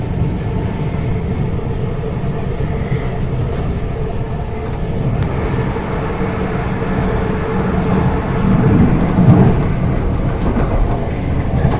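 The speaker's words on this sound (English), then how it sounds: "Overtaking a 450 going to Waterloo." Interior of a South Western Railway train running between Alton and London Waterloo while overtaking a Class 450 unit, with a steady loud rumble of wheels and motors that swells briefly toward the end.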